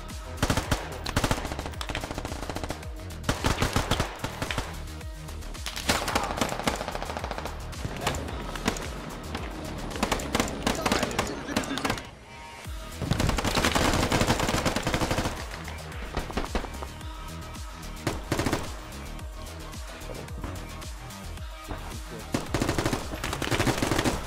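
Dense machine-gun fire and rifle shots in the Squad military shooter game, near and loud bursts rattling almost nonstop with a brief lull midway, faint voices underneath.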